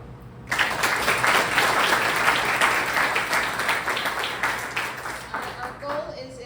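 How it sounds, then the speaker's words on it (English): An audience at a Hernando County candidate forum claps together, a steady wash of applause that starts abruptly and holds for several seconds before gradually thinning, fairly close and loud. "I want you to clap if you learned something about somebody today"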